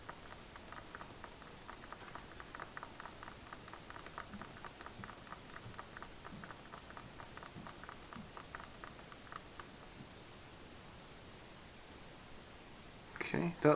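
Silver chrome model paint being stirred in a small pot, a soft rhythmic ticking and scraping of quick strokes that runs for several seconds then stops, with a louder clatter at the very end.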